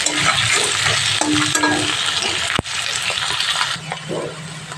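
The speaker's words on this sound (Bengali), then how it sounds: "পেঁয়াজটা হালকা করে ভাজা হয়ে গেছে" Onions fry lightly in a pan for a fish curry, a dense, close sizzle with stirring scrapes and a sharp knock midway, easing slightly toward the end.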